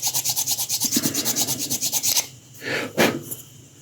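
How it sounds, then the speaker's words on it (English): A metal file rasps across a metal part in quick, even back-and-forth strokes, about a dozen close rhythmic scrapes, then a pause and a couple of slower, heavier passes. "I tend to like to use a metal file because the magnet pulls it down"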